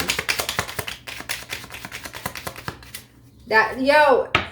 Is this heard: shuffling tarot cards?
yes